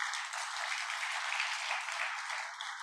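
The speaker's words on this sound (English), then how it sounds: "Then give applause for East Kalimantan." Audience applause at an opening ceremony of a youth summit in Indonesia, a dense, steady crowd clapping that holds evenly and fades slightly at the end.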